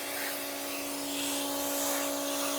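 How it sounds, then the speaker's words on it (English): A pressure washer spraying a cast iron pan during restoration, a constant loud hiss with a steady motor hum underneath, running without a break. "I like this pressure washer. It gets all them little creases and under here."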